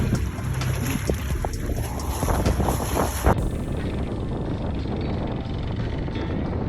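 Storm wind roaring across an open lake in Canada, constant broadband buffeting on the microphone, loud and steady with a brief knock partway through.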